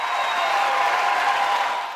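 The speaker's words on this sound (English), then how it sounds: "the audience at Miami Arts Studio erupted" An audience at the Miami Arts Studio applauds after a duo's singing performance, a steady dense clapping from a crowd that holds for about two seconds and then begins to fade.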